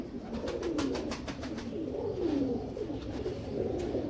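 Male Sultan Royal Teddy pigeon cooing in steady repeated low rolling phrases, close and clear, with faint high chirps from other birds behind and no talk.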